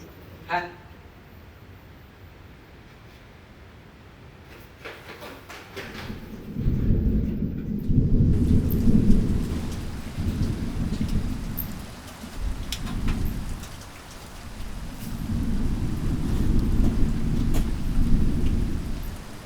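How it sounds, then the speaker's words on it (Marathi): Heavy rain pours steadily while deep rolls of thunder swell and fade several times, loud and close, after a quieter start, with lightning striking. "बघ तर किती पाऊस पडतोय आणि विजा बी पडतायत"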